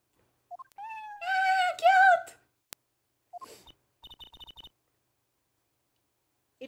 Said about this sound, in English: Hey, a kitty cat.